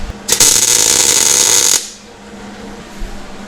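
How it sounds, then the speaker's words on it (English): A quick tack weld joins metal pieces for a fabricated throttle pedal adapter, giving a loud, close, steady crackling buzz for about a second and a half before cutting off into quiet room noise. "We're going to tack these on very quickly in one spot"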